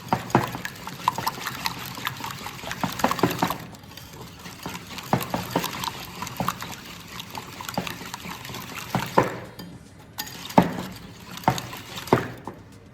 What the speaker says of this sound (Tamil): இப்போ உப்பு மிளகா போட்ட முட்டையை நல்லா கலக்குவோம்